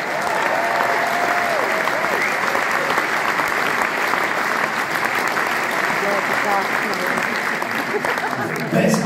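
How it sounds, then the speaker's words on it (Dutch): Concert audience at a tribute show in Turnhout applauding a guitarist and singer, a dense, sustained wall of clapping that stays loud and even before a brief shout near the end. "Mag ik u wel een applaus, gitaar en zang?"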